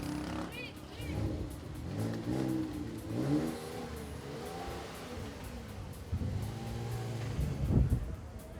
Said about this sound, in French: on va voir si le propriétaire est audacieux pour faire entendre le moteur